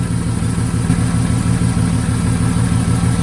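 A Jeep Comanche Eliminator engine idling steadily at about 800 RPM up close, a low even rumble with a regular throbbing pulse, loud and alone.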